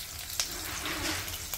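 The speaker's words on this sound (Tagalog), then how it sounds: "Ginisang talong lang po guys yung ating lulutuin." Eggplant sautés in a pan over a clay stove, a steady, close, dense sizzle with a couple of faint scrapes of stirring and no talking.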